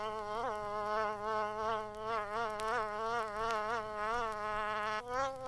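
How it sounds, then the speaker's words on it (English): A bee buzzes steadily and close by, its harmonic drone wavering in pitch as it hovers, with no other sound around it. "A bee."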